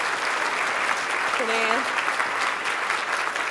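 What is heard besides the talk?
round of applause for Zelda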